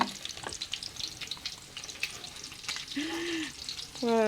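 Banana fritters (maruya) sizzle and crackle steadily in hot oil, with a few brief whistling tones rising over the frying near the end.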